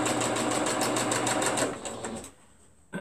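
A sewing machine stitches quilt blocks in a fast, evenly pulsing run for about two seconds, then slows and stops close by, with a brief knock at the end.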